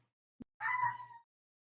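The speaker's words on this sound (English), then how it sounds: "I think that was a meow. It was a very big meow." A single loud, close cat meow of about half a second, drawn out and slightly falling, follows a brief click in an otherwise quiet room.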